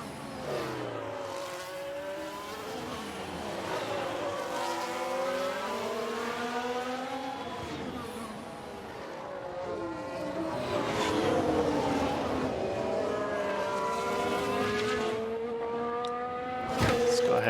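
Formula 1 race cars in the F1 Manager 2022 management game at the Spanish circuit, engines whining and rising in pitch as they pass, layered under steady commentary-style talk throughout.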